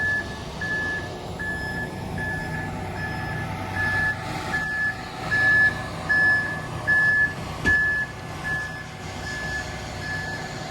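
A concrete truck's reversal alarm beeps in a steady, repeating rhythm over a low diesel rumble on a residential construction site where house footings are being poured.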